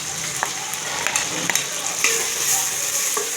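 Onions and green chillies sizzle and crackle steadily in a hot pan with salt, a continuous close frying hiss broken by a few brief stirring scrapes, with no talk.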